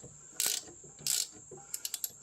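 A hand ratchet clicks in short bursts while turning a nut on a Triumph Spitfire's rear suspension during a teardown, with two quick runs of rapid clicks followed by a few separate sharp ticks, close and clear.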